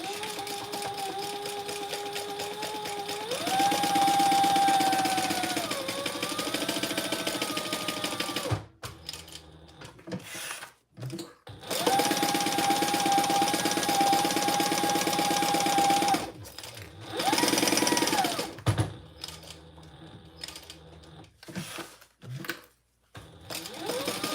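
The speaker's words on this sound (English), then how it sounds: "we're gonna stitch all three sides at 1/8 of an inch" Sewing machine stitching lining pieces at a scant eighth-inch seam, running in long steady bursts with pauses and brief stops and starts between sides, close and clear with no talk.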